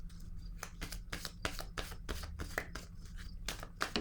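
Tarot cards shuffled and laid down during a reading, a steady run of crisp riffling flicks and soft slaps, close and moderately loud, with no voices.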